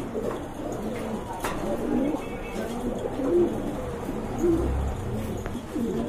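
A pair of pigeons for sale coo in distinct low, warbling phrases repeated every second or so, close and clear, with the murmur of a busy loft and faint voices behind.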